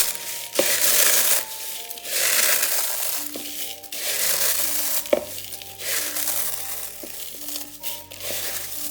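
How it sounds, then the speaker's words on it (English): Food crushed by hand in a bowl down to a breadcrumb texture for a cheesy hash brown dish: continuous crunchy crumbling and rustling in repeated waves, close and fairly loud, with no talking. "Crush them until they're a kind of breadcrumb texture"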